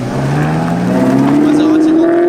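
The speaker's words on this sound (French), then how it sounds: "On a le convoi de Ferrari qui part, 488 GTB, 360. California." Convoy of Ferraris, a 488 GTB, a 360 and a California, driving off close by, a loud rising engine note climbing steadily in pitch as they pull away.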